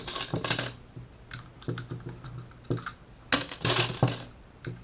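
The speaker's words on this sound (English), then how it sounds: "let them fall in like so. Click, bam." Rifle primers drop into the tray of an RCBS hand priming tool, making close, bright metallic clicks and tinkling rattles in two louder bursts with scattered lighter taps between, with no talking.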